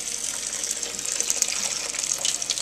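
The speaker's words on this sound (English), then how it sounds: "And then you let the water flow out like slowly" Hot pasta water draining slowly out of a pot of macaroni through a narrow slit under the lid, a steady close gushing and splashing stream with no talking.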